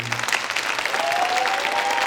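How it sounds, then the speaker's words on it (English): An audience at an end-of-year senior creative writing reading breaks into applause for the writers, a dense patter of many hands clapping at moderate volume for a couple of seconds, with a faint whistle or cheer rising in the mix. "Let's give another round of applause to these writers."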